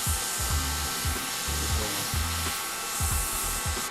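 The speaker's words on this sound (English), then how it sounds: "as you airbrushing, the dryer will be drying a lot of the paint onto the surfaces" Hair dryer blowing steadily to dry airbrush paint on a surface, a loud continuous airy roar with a low thumping rhythm underneath and no talk.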